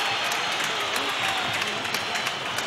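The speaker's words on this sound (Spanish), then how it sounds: "Incluso se ponen a aplaudirlo." Distant stadium crowd at Mestalla applauding a substituted footballer during a Valencia versus Atlético Madrid league match, broad steady clapping and crowd noise under a commentator's voice.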